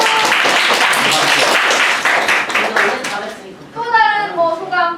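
Middle school students clap together in a classroom, a loud close burst of many hands for about two seconds that thins out, followed by a voice speaking.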